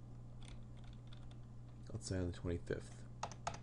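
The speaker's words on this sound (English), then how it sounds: "Now I start typing the name" Rapid keyboard typing on a computer while entering a transaction in GnuCash budgeting software: a quick run of close, soft clicks beneath a low steady hum, with a person talking over part of it.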